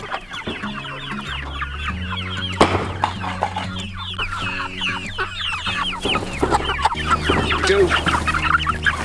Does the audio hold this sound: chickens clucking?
yes